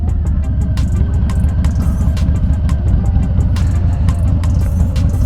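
A 2020 Harley-Davidson Sport Glide FLSB motorcycle engine runs steady at high RPM on the road, a loud continuous drone with constant wind rush and a few sharp ticks, no talking.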